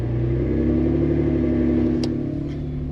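An off-road vehicle, tires aired down to 4 psi, climbs a snowy hill with its engine droning in a steady low rumble, close and continuous throughout.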